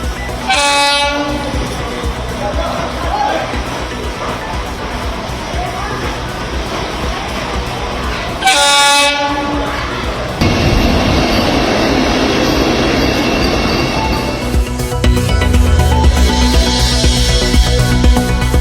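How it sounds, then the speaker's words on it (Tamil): Vande Metro train on a trial run from Chennai Beach railway station, loud rumbling rail traffic with two sharp horn blasts, then heavier clattering movement as the train gets under way. "வந்தே மெட்ரோ ரயிலுக்கான சோதனை ஓட்டம் சென்னை கடற்கரை ரயில் நிலையத்தில் தொடங்கியது."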